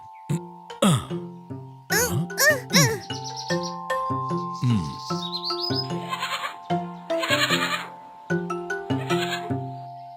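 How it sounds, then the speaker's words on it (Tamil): Repeated bleats from a cartoon lamb ring out over a steady tonal music bed, short wavering calls spaced across the whole stretch. "இது ஆட்டுக்குட்டி. மேமே."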